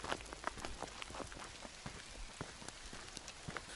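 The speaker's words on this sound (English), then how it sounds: "And now it's raining." Rain falling steadily on a fishing canopy outdoors, a dense patter of drops with scattered sharper taps throughout, close and continuous with no talking.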